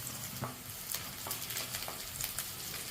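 Onions sizzling and browning in hot oil in a pan for a mutton and radish gravy, a steady close crackle with occasional stirring scrapes and no talking.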